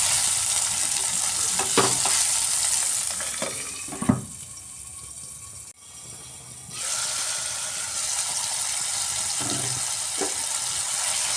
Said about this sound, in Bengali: টমেটোতে দিয়ে দিলাম সামান্য লবণ এবার আমি ঢাকা দিয়ে টমেটোটা একটু নরম করে নিচ্ছি